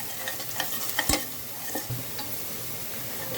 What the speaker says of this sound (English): So I would stir fry it till it becomes brown and soft.